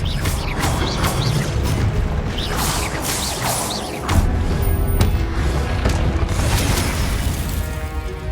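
Confringo blasting spell from Hogwarts Legacy, a string of loud booming blasts and crackling bursts over a busy game soundscape, with a heavier impact around the middle.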